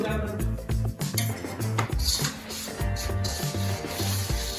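Oil is worked into flour dough for Kathiyawadi churma with a spoon, making close, rhythmic scraping and clinking against a metal bowl in repeated quick strokes.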